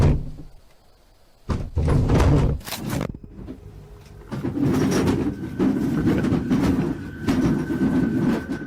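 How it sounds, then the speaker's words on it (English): Loud clattering knocks and bangs burst from a cupboard, as if dishes inside were jumping around, in uneven clusters with brief lulls between them and a steady hum behind. "It sounds like all the dishes inside are jumping around."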